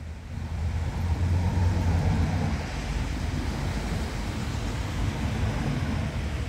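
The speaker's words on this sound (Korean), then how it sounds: "차 소리다." A car passing by outdoors, a broad steady rumble with a slight swell early on, moderately near and fairly quiet, with no talk over it.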